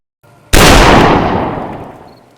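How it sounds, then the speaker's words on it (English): A single loud gunshot cracks out in a dramatic island survival scene, striking abruptly and then decaying in a long, fading reverberant tail. "a gunshot rings out"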